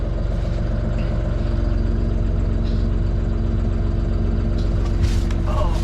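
A tractor engine idles steadily and close, with a low harmonic drone throughout, as its hydraulics raise the wings of a John Deere e12 rotary cutter; no one speaks.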